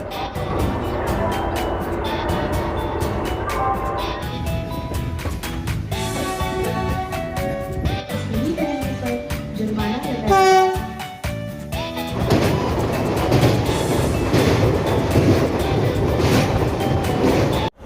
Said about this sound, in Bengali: হাওড়া স্টেশন থেকে আমাদের ট্রেন ছেড়ে দিল ছটা আটে ছাড়লো পাঁচটা পঁয়তাল্লিশের হাওড়া হলদিয়া লোকাল